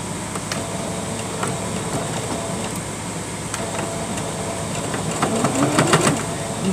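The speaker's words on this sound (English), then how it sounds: "And now I'm going to sew all the way across" A sewing machine stitches straight across a doll-sized sleeping bag for a Barbie, a steady mechanical whir that runs the whole time with faint ticks and a slight rise toward the end.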